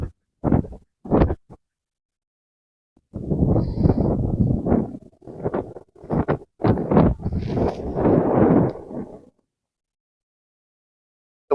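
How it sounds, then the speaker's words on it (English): Strong wind buffeting lavalier microphones outdoors beside moored Philippine Mars pontoons, heard as loud, rough rumbling gusts that come in bursts and then cut out into near silence, close and with no voices. "As you can tell, it's pretty windy out."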